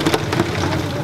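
Heavy monsoon rain pouring down in a dense, steady hiss over muddy ground with a ditch, loud and close, with occasional heavier spatters and no voices.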